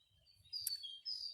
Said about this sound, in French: d'entendre les oiseaux qui chantent